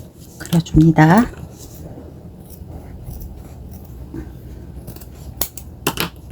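Scissors snip through felt, cutting out the traced backing shape for a quilted braided-cord brooch; a few short, crisp cuts come early and a couple of faint clicks come later, with a voice briefly audible at the start.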